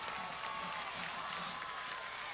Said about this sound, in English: The whole Tiger cheering section on their feet